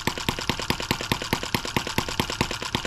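A small nitro-fuel engine runs with a large carburetor on a newly made manifold fitted to an m17b, giving a steady rapid popping beat, close and fairly loud with no voices.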